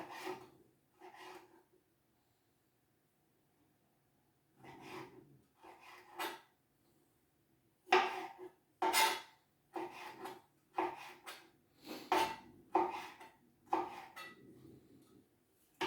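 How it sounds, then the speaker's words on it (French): A knife cuts preserved lemons into strips, giving bursts of wet slicing and rasping strokes against a board, separated by short pauses and faster toward the end, with no talk. "Ensuite, on va tailler nos citrons en lamelles."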